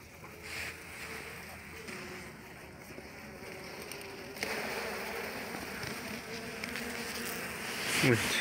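Honey bees droning around an opened hive during autumn hive inspection, a soft continuous buzz heard close up, with faint background noise and no clear speech.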